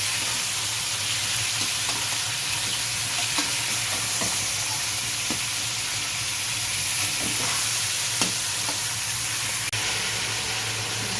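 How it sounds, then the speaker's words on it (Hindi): Chicken pieces fry in hot oil for white chicken karahi, giving a constant, dense sizzling hiss with occasional faint crackles up close, steady throughout and free of talk. "चिकन को अच्छे से हम फ्राई कर लेंगे।"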